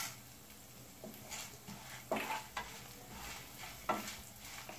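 Urad dal and chana dal roast in a pan, with faint sizzling and a few soft scraping stirs at irregular intervals, close and quiet, with no talk.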